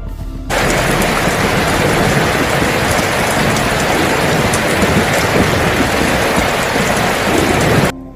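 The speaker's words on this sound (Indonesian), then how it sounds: "hujan pun turunlah dengan angin ribut" Heavy rain pours steadily with storm wind, a loud, dense hiss that starts abruptly and holds constant before cutting off near the end.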